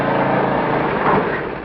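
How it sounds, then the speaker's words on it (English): A lawn mower engine runs in a garden, a steady close drone with a constant buzzing tone and no pauses, tapering slightly at the end. "Pesky lawnmower."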